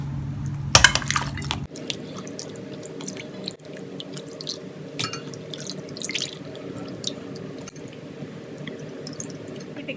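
Meat pieces being rinsed in a bowl of fresh water at home, with a burst of splashing followed by steady drips, trickles and soft sloshing, close by and without talk.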